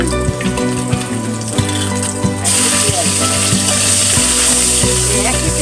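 Garlic frying in hot oil in a pan, a bright continuous sizzle with stirring clatter and a sudden louder hiss partway through as more goes in, close and loud.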